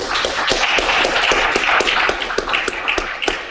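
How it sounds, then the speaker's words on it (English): An audience at a front-end web development with Ruby talk breaks into dense, steady applause that keeps going at a fairly loud, even level, with many overlapping claps and no speech. "let's give him another round of applause and welcome back"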